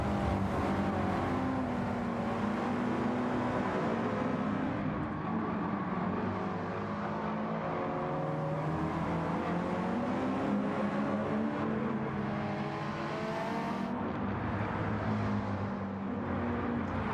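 Race cars at Autopolis in a racing video game: a dense, continuous wash of engine drone with several motors revving and shifting pitch together, steady and moderately loud throughout.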